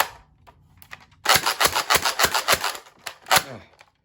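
A Nerf Modulus Mediator pump-action blaster slam-fired through a magazine, giving a rapid string of sharp clacks and pops in quick rhythm, close and loud, with a few final shots after a short pause.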